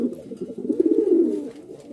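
A pair of racer pigeons gives a short, close, throaty cooing run that swells in the middle and fades out, with no voices over it.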